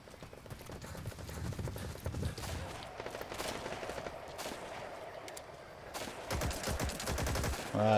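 Assault rifle fire crackles in Metal Gear Solid Online as repeated rapid bursts of shots over game background noise, growing denser and louder toward the end.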